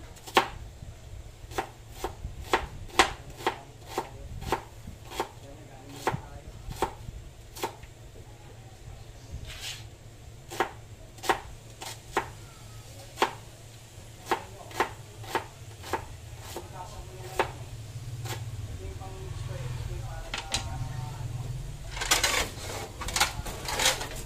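Ingredients for buttered garlic crab being chopped on a board, with a long run of sharp, evenly spaced knife strikes, close and distinct, over a low background hum, no voices.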